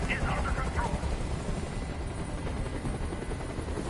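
A helicopter in the video game Detroit: Become Human gives a loud, continuous rotor roar that dominates the whole scene, with a brief sharper burst near the start.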